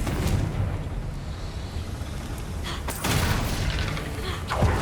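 Fire spell Confringo cast in the Hogwarts Legacy video game: a sustained, rumbling blast with crackling bursts, swelling around the middle and again near the end, loud and close with no talk.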